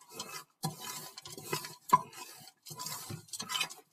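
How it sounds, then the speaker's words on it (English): A spoon stirs a thick mixture in a bowl in repeated short bursts of scraping and clinking. The strokes come in irregular rhythm with brief pauses between them, close and moderately loud. "I'm gonna mix it all up."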